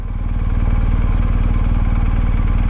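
A motorcycle engine runs steadily and loud nearby in a low rumbling idle-like putter as the bike rolls to a stop in first gear, with no talk over it.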